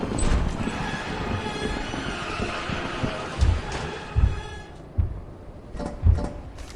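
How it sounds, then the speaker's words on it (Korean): Many overlapping footsteps of monsters in the video game Lethal Company, a steady thudding patter with several heavier, louder steps near the end, and no talking. "발소리가 많은데?"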